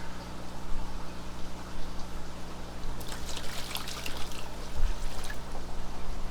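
Water pouring and trickling into a container holding crayfish, a steady close splashing stream that grows brighter partway through, with no talking.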